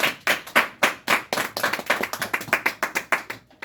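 A church congregation claps in rhythm, sharp distinct hand claps repeating at a quick steady pace, close and clear with no talking.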